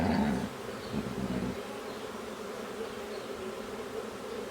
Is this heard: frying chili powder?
no